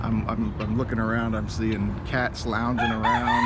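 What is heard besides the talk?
rooster crowing on a farm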